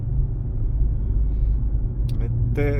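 A car on a driving exam route in Bila Tserkva, heard from inside as a steady low engine and road rumble, with a voice talking briefly over it near the end.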